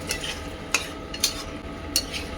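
Mint chicken sautéed with coriander leaves in a pan, a spoon scraping and stirring in a few sharp strokes over a low, continuous sizzle.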